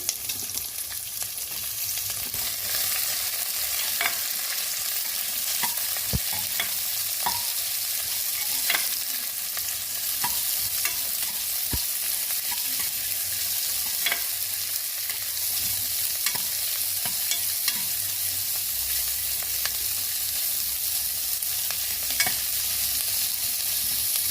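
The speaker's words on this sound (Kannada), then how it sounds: "ಈಗ ಈರುಳ್ಳಿ ಹಾಕ್ಕೊಳ್ಳೋಣ. ನಾನಿಲ್ಲಿ 2 ಈರುಳ್ಳಿ ತಗೊಂಡಿದ್ದೀನಿ." Two onions fry in a pan while being stirred for a Karnataka-style chicken hitikida bele saaru, a steady sizzle running throughout with regular scraping stir strokes at moderate, even loudness and no talking.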